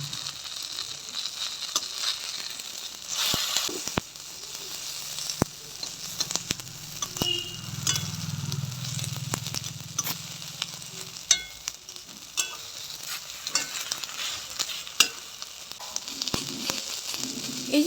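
Tomatoes, eggplant and green chillies frying in oil in a pan for a winter begun bharta, a steady close sizzle and crackle with frequent sharp clicks and scrapes of turning and lifting the pieces; no talk.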